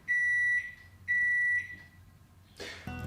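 Two steady electronic beeps, each about half a second long, sound clearly during home beer brewing with a Brewferm kit. A short, sharp clatter and rustle come after them.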